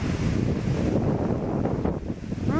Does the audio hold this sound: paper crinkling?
no